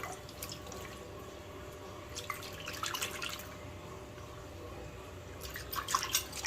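Goat blood is rinsed with water in a quiet kitchen, with soft dripping and trickling heard in two short bursts over a low, steady background hum.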